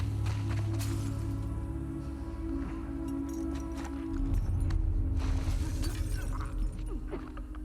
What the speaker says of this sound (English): Oh, the glass makes noise.